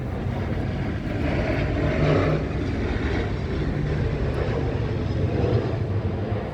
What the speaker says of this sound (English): I've learned to wait until the planes pass by.